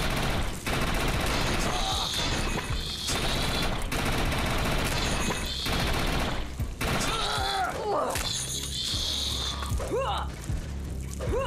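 Sustained gunfire in the sci-fi shooter Defiance, with dense rapid automatic bursts that are loud and close and keep going almost without a break, mixed with thuds and other battle sounds.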